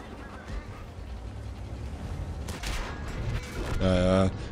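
Bursts of gunfire and booming tank shots from the video game World of Tanks, with a Ferdinand tank destroyer, sound over a steady mechanical rumble, with a brief buzzing electronic tone near the end.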